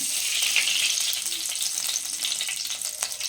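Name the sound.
oil added to a heated clay pot for fish curry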